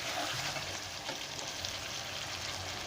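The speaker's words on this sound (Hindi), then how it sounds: "अभी टमाटर के साथ फ्राई करेंगे गोश्त की" Meat frying in a pan with tomatoes, ginger, garlic and green chilli paste: a steady, soft sizzle and crackle with a faint scrape of stirring, close by and without talk.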